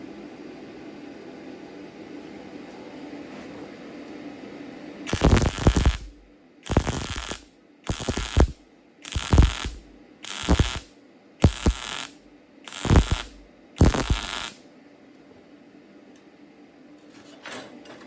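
A YesWelder MIG-250 Pro MIG welder turned up to 200 lays stitch welds in eight loud, crackling bursts of about a second each, split by short silent gaps after a stretch of low background hum.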